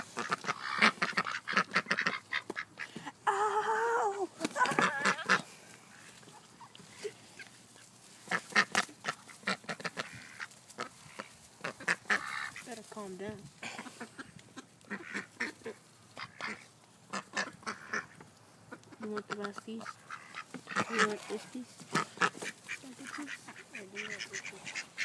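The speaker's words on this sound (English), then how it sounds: "We got a lot of ducks, don't we" A crowd of ducks quacking nonstop close by on a Sunday afternoon outdoors, overlapping loud bursts of quacks and honks with brief lulls, thick and chattery across the whole stretch.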